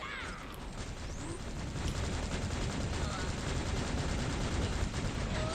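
Deployed turret in Borderlands 2 fires a steady, continuous stream of rapid shots, dense and unbroken for several seconds amid busy game noise.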